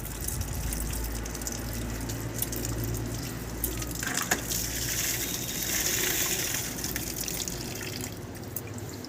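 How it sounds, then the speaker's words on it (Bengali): Pieces of bhetki fish rinsed in water with a little turmeric, a continuous close splashing and gushing wash with drips and small knocks, no speech over it. "মাছগুলো আমি ধুয়ে দেবো"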